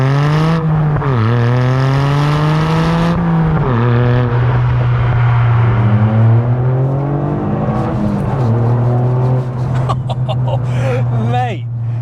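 A Toyota GR Yaris engine revs hard through repeated second-gear pulls, its pitch climbing steadily, dropping sharply at each shift, then climbing again, loud and close throughout.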